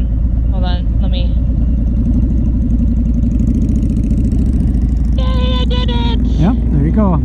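A Honda Shadow Spirit 750 motorcycle engine idles with a steady, loud low throb close by while voices talk over it.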